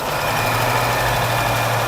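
A car engine idles steadily and loudly up close, misfiring on cylinders 1 and 2, a constant low rumbling drone that holds even for the whole stretch.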